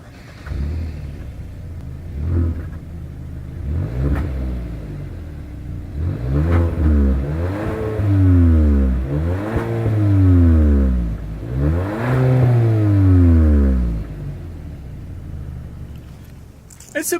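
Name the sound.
2020 Hyundai Sonata SEL single exhaust with chrome dual tips revving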